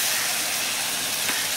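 A steady, loud hiss of chili and cumin paste frying in hot oil, a continuous broadband sizzle with no talk over it.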